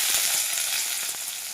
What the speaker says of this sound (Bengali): দিয়ে দেবো আমি কেটে রাখা লঙ্কাগুলো